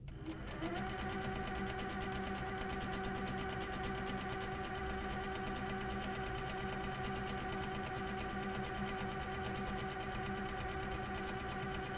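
A quilting sewing machine stitches a quilt in a steady, continuous mechanical whir with a fine regular rattle, close and unbroken for the whole stretch, no voices.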